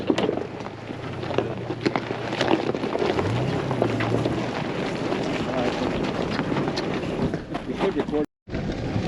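An off-road vehicle rolling along a rough dirt road and wash near the edge of Area 51, a steady low rumble buffeted by heavy wind noise, with voices talking over it.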